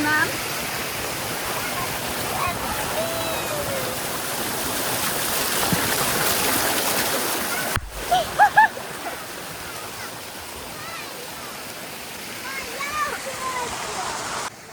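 A rock-lined waterfall pours into a saltwater pool at a family resort in Zakarpattia, a steady broad rush of splashing water that drops away halfway through and returns quieter, with a few brief sharper sounds.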